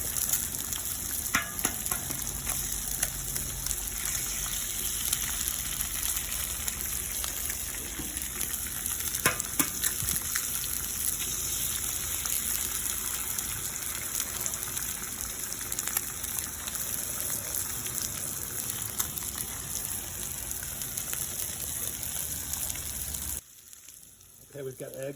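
Eggs frying on a Blackstone griddle with steak cooking nearby, a steady loud sizzle and crackle running throughout with scattered pops, then a sudden drop near the end.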